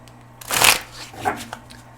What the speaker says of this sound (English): I'm going to pull from my Heavenly Hearts Oracle deck.